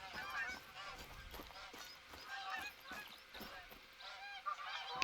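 Geese in The Hunter: Call of the Wild honk repeatedly in an overlapping flock chorus, loud and continuous across the outdoor hunting-game scene.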